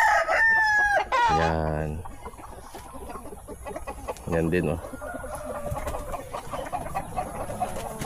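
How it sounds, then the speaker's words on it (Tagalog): Native hens on a small farm cluck and a rooster crows close by, loud at the start, with scattered bird calls continuing underneath and a person talking briefly. "Mga inahin niya, oh."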